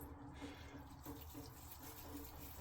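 Cold tap water runs steadily through cooked tapioca pearls held in a sieve, a continuous soft splashing stream heard alone at low level.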